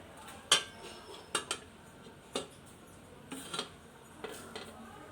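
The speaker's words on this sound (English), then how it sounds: "Now on top of this we will cover it with a lid." A lid is set over a paneer onion pizza on a roti griller on the stove, making several light metallic clinks and taps spread out with quiet gaps between them.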